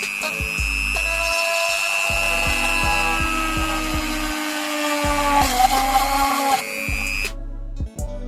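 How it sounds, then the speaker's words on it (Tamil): A small power drill bores a hole for a screw while building a homemade BBQ machine. Its steady, high motor whine pulses with low rhythmic thumps for about seven seconds, then cuts off. "நான் ஒரு ரில்லர் மாதிரி ஒன்று யூஸ் பண்ணுறேன்"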